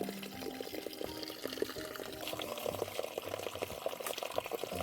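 Cold water from a village spring stream trickles and splashes steadily and softly, a continuous gentle burble with small drips, heard at close range with no voices.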